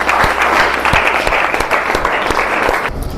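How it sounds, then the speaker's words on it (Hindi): A room full of people at a school event claps together for a student, a loud, dense and steady burst of applause that tapers off abruptly at the end. "इनके नाम पे थोड़ा सा ताली बजाइए"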